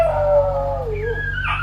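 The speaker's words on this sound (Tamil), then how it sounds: "நாய்கள்லாம் வந்து பயங்கர கூட்டமாக சுற்றிட்டுருக்குது" A stray street dog howls loudly and close, a long wavering cry that slides down in pitch and then rises into a higher whining yelp.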